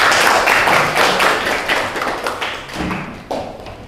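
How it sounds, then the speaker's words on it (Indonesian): Classroom students clap for a presenting group, a brisk burst of many hands that starts loud and thins out over a few seconds, with a few scattered late claps. "Aplaus untuk kelompok 1"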